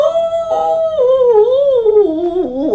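A person's voice imitating the mournful howl of an old hound dog, one long, loud wavering howl that slides and bends in pitch, close up, with no other talk.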